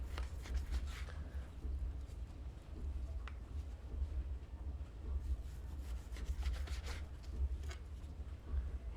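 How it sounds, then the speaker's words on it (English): A knife saws through cooked meat against the grain on a cutting board for Hayashi rice, soft repeated rubbing strokes, quiet and close, with occasional light taps of the blade. "You're not really wanting to push down on the knife, it's more of a sawing motion."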